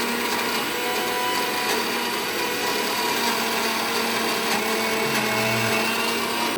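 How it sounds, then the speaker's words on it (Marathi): A mixer grinder grinds chicken masala, a loud, constant whirring drone holding steady from start to finish, close up with no voices. "सगळं ते सगळे ग्राइंड करून घेऊ"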